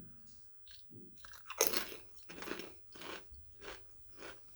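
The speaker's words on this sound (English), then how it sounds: "They got a nice crunch to them." Crunchy H-E-B Cool Ranch tortilla chips being bitten and chewed up close, a sharp first crunch followed by a steady run of crisp chewing crunches, with no talking.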